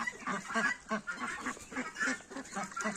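Geese honking in a farmyard in the evening, a run of repeated nasal calls in a quick, uneven rhythm, close and fairly soft, with no one talking.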